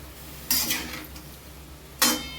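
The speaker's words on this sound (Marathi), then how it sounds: "त्याला छान असं मिक्स करून घ्यायचं, खालीवर चांगले हलवून घ्यायचे एकदम" Cauliflower being tossed in a hot spiced tempering in a pan for a dry sabzi, two short scraping stirs a second and a half apart over a quiet low background.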